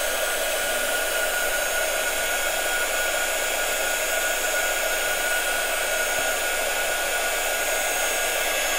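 A heat gun blows steadily to dry paint on a canvas, a continuous loud airy whoosh with a constant hum and no pauses or voices.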